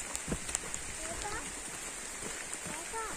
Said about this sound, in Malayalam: മഴ ഞങ്ങളെ ചതിച്ചു.